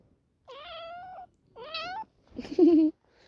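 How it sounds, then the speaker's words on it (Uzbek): A pet cat meows three times in a row indoors, each call close and clear, the last one longer and rising into a whiny, strained yowl, with no other sounds around it. "Miyovlachi bitta."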